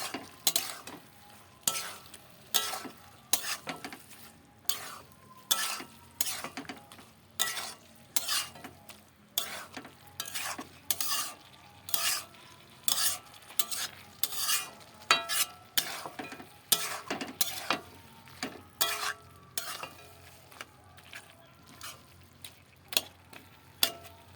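Eggs being stirred into Malabar spinach frying in a pan, with repeated scraping spoon strokes in an irregular rhythm over a faint sizzle, close and alone.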